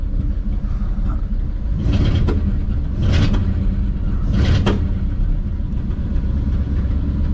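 A 1940 Mercury Eight flathead V8, run after sitting since the 1970s, idles with a steady low rumble and rises in three short revving bursts, close and loud throughout.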